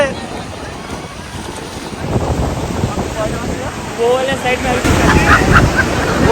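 Sea waves surging and washing up onto the beach at Digha, a loud continuous wash with strong wind buffeting the microphone, while people talk over it.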